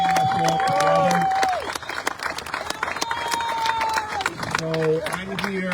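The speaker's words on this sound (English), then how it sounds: "How about a round of applause for Senator Mattera, Mattera, for bringing us all together." Applause for a state senator at a press event on a gas ban lawsuit, a steady crowd clap over about six seconds with cheering voices and chatter mixed in.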